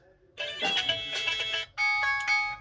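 Ringtone from a Vestel Venus Z20 smartphone after its buzzer was replaced, a bright electronic melody of clear repeated tones that starts abruptly, pauses briefly and resumes, heard close and alone.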